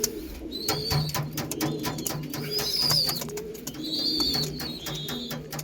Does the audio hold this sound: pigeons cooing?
yes